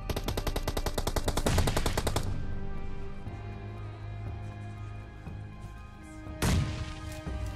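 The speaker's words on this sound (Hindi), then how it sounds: "तभी मुझे इधर वाले स्क्वाड हाउस से गन फाइट के साउंड आते हैं" Rapid automatic gunfire from a squad house in a battle-royale shooter game, a dense burst of shots for about two seconds followed by a lingering rumble, then another sharp loud shot near the end.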